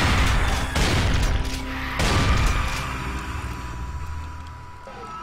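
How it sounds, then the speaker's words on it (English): Rockets explode in Brutal Doom, two sharp heavy blasts roughly a second apart, then a lingering rumbling tail that slowly fades under constant background din. "A lot of rockets."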